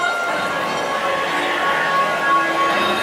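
A train at Knott's Berry Farm during its October Halloween event gives a steady, loud rolling rumble with faint squealing tones, and no talking over it.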